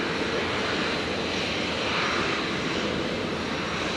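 A Virgin Boeing 737-700 jet taking off from runway 01 right at Brisbane in wet conditions, its engines a steady, loud, broad roar that holds throughout with no voices.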